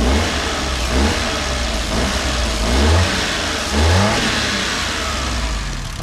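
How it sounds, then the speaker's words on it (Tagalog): A Suzuki DA17W car engine runs steadily just after an oil change, with several rising revs swelling over the continuous low idle, loud and close, with no voices. "So, ito yung makina natin."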